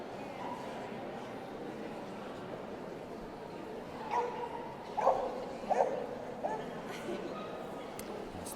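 At an indoor dog show in the hound group, a Basset Hound gives a few short, faint barks and yips over a busy hall murmur, spaced a second or so apart.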